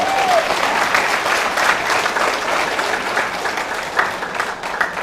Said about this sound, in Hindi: जोरदार तालियां अपने लिए बजा लीजिए।